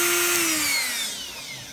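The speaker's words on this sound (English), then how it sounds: "You're going to drill a hole in there using either a Dremel, a drill press" A small high-speed Dremel rotary tool whines loudly close by, its pitch sliding steadily downward as the motor spins down over a couple of seconds.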